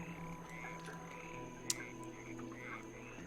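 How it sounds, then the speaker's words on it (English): Frogs in the background ambience of a DemonCrawl level croak in a steady low chorus, with repeated rising calls over a constant hum and one brief sharp click, and no one talking. "And also, it sounds like frogs."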